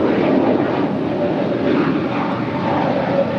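Airliner engines at LAX airport roar as a steady, even, fairly loud broadband drone that holds with little change from start to finish, with no talk over it.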